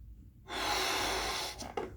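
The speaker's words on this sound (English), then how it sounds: "Try and practice your breathing." A deep breathing exercise for respiratory and bronchial hygiene, with one long, loud, breathy exhalation lasting about a second, followed by a couple of short sharp breaths near the end.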